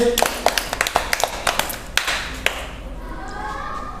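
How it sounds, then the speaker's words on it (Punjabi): Schoolchildren in a classroom clapping in a burst of sharp, irregular claps that thin out and stop after about two and a half seconds, with a voice speaking nearby. "ਬਹੁਤ ਵਧੀਆ ਤਾੜੀਆਂ ਮਾਰੋ ਸਾਰੇ ਬੱਚੇ"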